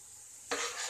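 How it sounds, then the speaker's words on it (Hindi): Bottle gourd curry being stirred in a hot pan for a lauki chana dal sabzi: a quiet lull, then a sudden rush of sizzling and scraping as the freshly added gourd is mixed in, close and steady. "और इसे अच्छे से मिक्स करेंगे"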